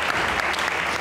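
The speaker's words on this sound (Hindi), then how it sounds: "कायद के लिए बड़ी तालियां होनी चाहिए।" An audience applauds at a television comedy show, a brief, dense wash of clapping heard alone.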